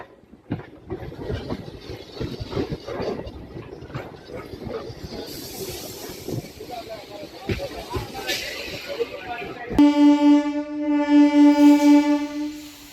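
A MEMU passenger train pulls out of Venkatagiri station amid rumbling carriage noise and clatter, with people talking on board, before a loud, sustained horn sounds twice near the end.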